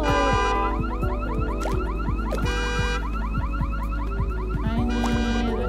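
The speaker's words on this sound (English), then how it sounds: "I've set up the car alarm!" A car alarm blares in the video game SCHiM, loud and close, cycling through repeating warbling and whooping tone patterns with no talk over it.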